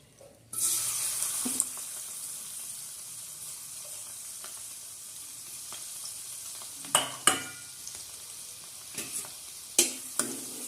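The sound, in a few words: garlic frying in hot oil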